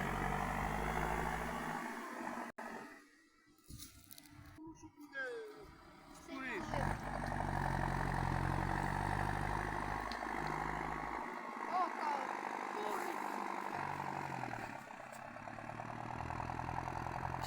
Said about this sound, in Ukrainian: Зараз ще заїде на другий кусочок города трактор.